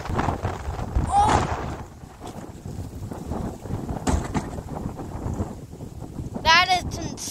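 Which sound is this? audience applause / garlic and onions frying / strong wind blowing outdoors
strong wind blowing outdoors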